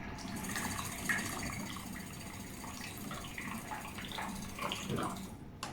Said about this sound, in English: We can see that the beaker is filling.